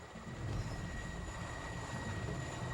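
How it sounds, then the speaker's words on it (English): An approaching helicopter in the PS2 version of 007 Quantum of Solace, a steady low rotor thrum and engine drone that grows slightly louder, with no talk over it. "His helicopter's on its way."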